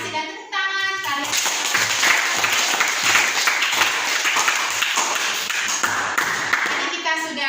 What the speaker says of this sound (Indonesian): Terima kasih dan tepuk tangan kalian.